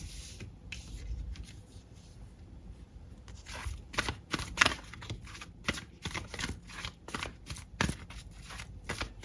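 Tarot cards shuffled and handled up close, with a run of crisp riffling snaps and flicks that come in quick bursts and grow busier partway through, no voice over them.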